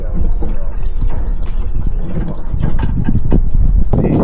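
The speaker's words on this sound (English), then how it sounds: "so currently we've got the coolant is draining into a container" Coolant from the radiator of a 40-year-old Lada 2101 drains into a container, a continuous close pouring and splashing with scattered drips, loud and steady throughout.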